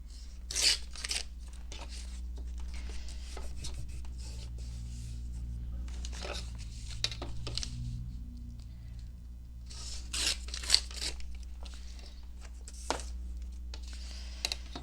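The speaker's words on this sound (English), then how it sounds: "Maybe I'll just tear them rather than cutting them and giving them a very straight and definite edge." Book pages torn by hand outdoors on a cold day, a series of sharp, close ripping bursts in irregular clusters separated by quiet pauses over a low steady hum.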